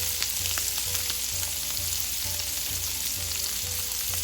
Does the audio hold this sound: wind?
no